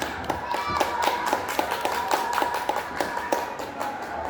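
A school audience claps for the principal, sharp hand claps falling in a quick, fairly regular rhythm, loud and close throughout with no talk over them.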